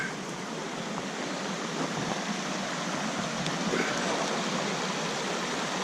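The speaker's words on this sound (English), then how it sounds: "But here's a creek." A creek near a ghost town site in Sierra County, California, flowing in a steady broadband rush of water. The sound is continuous and moderately loud, with no talk.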